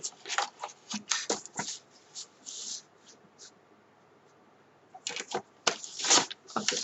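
Cardboard is cut with a paper guillotine (massicot) at a craft table: a run of crisp, quick slicing and rustling bursts, a quiet pause, then another burst of sharp cuts and handling noises, up close and fairly soft.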